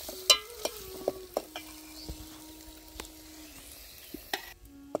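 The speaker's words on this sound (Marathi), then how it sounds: "आता टाकून घेऊया आपण तिखट, मीठ आणि टमाटर टाकून घेऊया त्याच्यासोबतच." Chili powder, salt and tomato hit hot oil with cooked garlic, cumin and coconut over a wood-fired stove, crackling softly while a spoon scrapes and taps the pan in a loose rhythm of sharp clicks.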